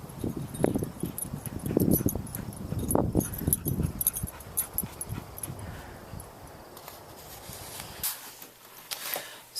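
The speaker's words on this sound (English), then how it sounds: "Throwing the ball for my dog." A dog whimpers and makes small excited sounds during a game of fetch, with bursts of close, scuffling noise in the first half, then quieter activity and a few brief clicks.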